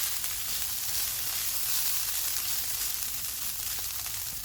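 A mixture of dried oregano, soy sauce and chili sauce being fried in a pan for a chicken cheese bread roll filling, a close, steady sizzle and crackle with no talk.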